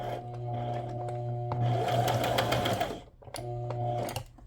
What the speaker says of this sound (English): I'm going to go ahead and again just do that little running stitch